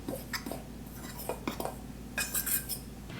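A utensil scrapes and clinks against a bowl while coconut flour and baking powder are stirred together for keto cinnamon swirl bread, giving a few irregular close taps and scrapes with short pauses between them.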